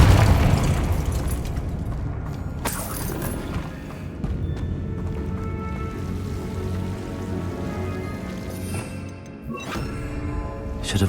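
Spell blasts and fiery explosions from the Confringo fire spell in the video game Hogwarts Legacy, rumbling booms and crackling bursts layered densely over continuous game noise, with a couple of sharp louder hits.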